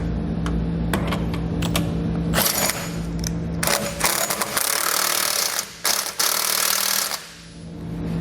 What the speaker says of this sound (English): I'm going to come back with a 15/16 socket, and I'm going to tighten up that large 5/8 bolt on the bottom